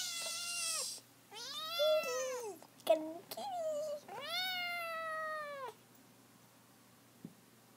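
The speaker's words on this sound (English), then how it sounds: "That's my other cat." A house cat meows repeatedly, with several long, drawn-out, wailing calls near the microphone, a short pause between them, and a faint thump near the end.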